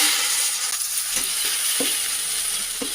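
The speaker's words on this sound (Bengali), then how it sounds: "মশলা কষানো হয়ে গেলে চিকেনটার সাথে অ্যাড করব করে নাড়াচাড়া করে নেবো" Pre-fried chicken is stirred into a cooked-down spice mix in a pan, making a continuous close sizzle broken by scattered scraping clicks from the spoon.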